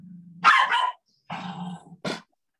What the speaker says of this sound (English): Sorry, it's a dog that doesn't like anybody.